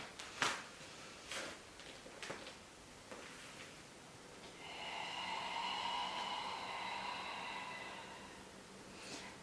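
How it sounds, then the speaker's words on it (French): A person doing a Pilates exercise takes an audible breath. Several short sharp breaths come first, followed by a long, steady airy inhale lasting a few seconds, close and fairly soft, with no speech. "Et on inspire."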